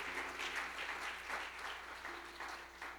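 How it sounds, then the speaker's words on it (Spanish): A church congregation applauds steadily, a dense wash of clapping from many hands filling the room for the whole stretch. "Por favor, den un aplauso al Señor que está ahí como hijo."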